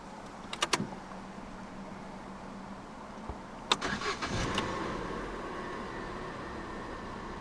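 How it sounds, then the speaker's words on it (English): A 2019 Opel Corsa 1.4i 16v 75 five-door is started with a key. A few light key and mechanism clicks come first, then the starter cranks briefly and the engine catches into a steady, low idle hum, with no talk. "To start, put your foot on the clutch, insert the key into the slot right here, and then just twist the key."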